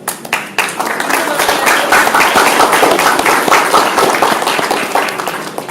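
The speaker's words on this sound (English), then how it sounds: "Okay, let's give a round of applause." An audience at a school board candidates forum breaks into sustained applause, many hands clapping densely and evenly, with a few voices mixed in beneath it.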